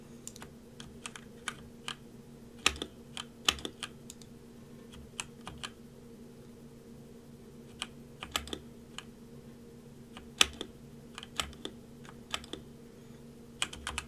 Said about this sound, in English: the sound of this keyboard, oh my, is rather distracting in terms of it being high-pitched, like very, very tingy.